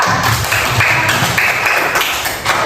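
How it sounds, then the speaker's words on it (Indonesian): A class of third-grade children clapping together for a classmate, a brief burst of rhythmic applause close by. "Tepuk tangan untuk Diba."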